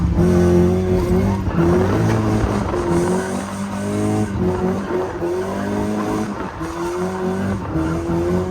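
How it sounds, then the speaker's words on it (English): A drift car skidding hard with the engine revving, producing loud, repeated tire squeals that rise and fall in pitch over several seconds, close and continuous. "It's an actual drift car now."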